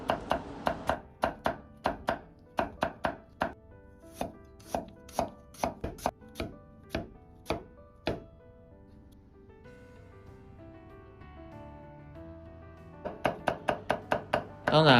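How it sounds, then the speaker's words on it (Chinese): A kitchen knife cuts sliced celtuce stem into even shreds on a cutting board, with rapid rhythmic chops, a pause, then another quick burst. The chopping is close and crisp, with a faint background hum. "然后再切成粗细均匀的丝"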